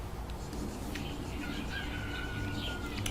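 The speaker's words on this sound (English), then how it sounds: "That stupid cuckoo noise always catches me off guard." A cuckoo-style call in the Chibi-Robo video game rings out as a crowing, bird-like sound with a drawn-out tone lasting over a second, loud against a dense background of game noise.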